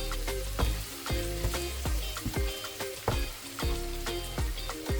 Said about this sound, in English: push the veggies aside so that I can cook the eggs